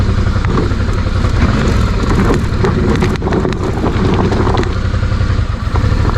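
A motorcycle labours up a very steep, rocky slope with both wheels slipping on loose stones, the engine droning loud and uneven with constant roughness and wind buffeting the microphone throughout.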